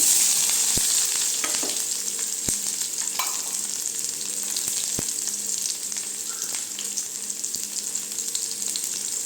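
Dried red chillies and onion fry steadily in hot oil for a Tamil banana flower kootu, a constant close sizzle with a few sharp clicks from stirring and no talk.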